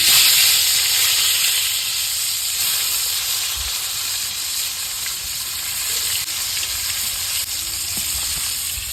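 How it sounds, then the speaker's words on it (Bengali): Fish frying in hot oil in a wok in a village kitchen makes a loud, continuous hissing sizzle up close, steady throughout with faint low stirring knocks beneath and no talk. "কড়াই গরম হয়ে গেছে, তেল দিয়ে দেই, মাছটা ভাজবো। আমি মাছ দিয়ে দিই।"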